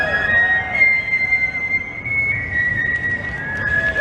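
A person whistles a melody with steady sustained tones, close and fairly loud, carrying alone with almost no talk.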